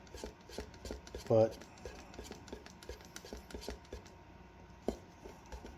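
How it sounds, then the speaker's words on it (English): A scrap wood stick stirs a can of Plasti-Dip, giving faint, close, rhythmic tapping and scraping, with a short spoken word partway through. "I'm just going to take a piece of scrap wood I have here and stir this up."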